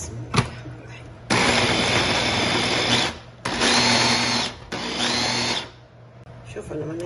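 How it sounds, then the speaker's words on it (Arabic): A kitchen blender grinds falafel ingredients seasoned with cumin in a small jar. It gives three loud, steady motor bursts separated by short pauses, with no talking. "هنسكر عليها ونقلبهم بالخلاط"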